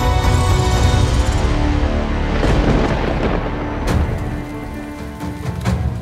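Torrential monsoon rain pouring during an outdoor ceremony rehearsal in Bhubaneswar, Odisha, a dense loud hiss of downpour with a deep rumble of thunder rolling through the middle before the rain eases slightly.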